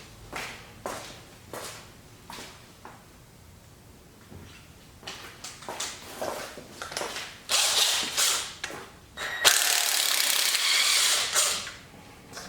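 A ratchet works loose the intake bolts on a barn-find Pontiac Trans Am Turbo 301 engine, with quick clicking pawl bursts, metallic knocks and scrapes, close by, growing busier toward the end, without speech.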